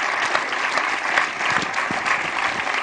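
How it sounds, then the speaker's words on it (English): Warm applause from an audience for a speaker, continuous close clapping at a steady level throughout. "let's give him a round of applause"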